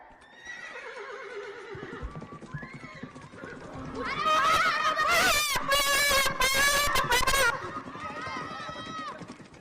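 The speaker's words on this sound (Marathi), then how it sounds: "तोच तोच सैन्यातला घोडा उधळला." A horse whinnies loudly with a run of shrill neighs, over the thud of galloping hooves and some background voices.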